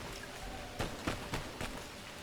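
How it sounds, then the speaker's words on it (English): Steady, soft rainfall in the video game My Time at Sandrock, with a few brief louder spatters of drops hitting a surface. No one speaks. "Sounds like the rain is stopping."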